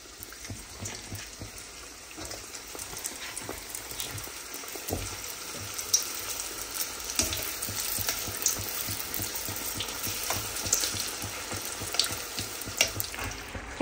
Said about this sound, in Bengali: এখানে সমোচা ভাজা হয়ে গেছে,